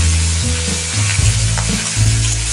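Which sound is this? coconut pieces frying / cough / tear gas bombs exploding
coconut pieces frying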